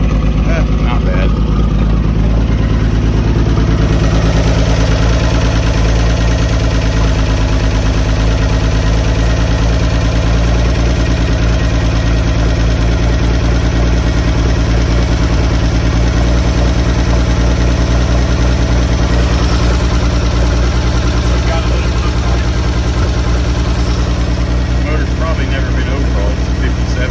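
A 1947 Chevy wrecker truck that has sat for a couple of months and needs plugs and a tune-up idles steadily, a loud, even, low engine drone running unbroken throughout.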